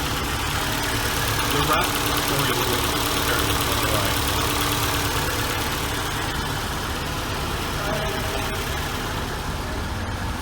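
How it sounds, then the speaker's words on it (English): A 2010 Ford Escape engine idles steadily just after starting, a loud, even, continuous rumble close by with no change in pace, while a person speaks briefly over it. "I'm surprised it started."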